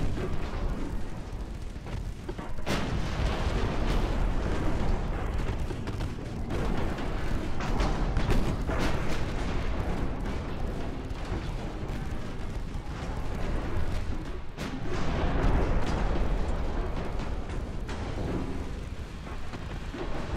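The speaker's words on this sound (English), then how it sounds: "this, like, machine gun they've got going on here" Continuous rapid machine gun fire in a naval war video game, dense booming bursts rattling on for the whole stretch with heavy low rumble and occasional sharper cracks, with no talking.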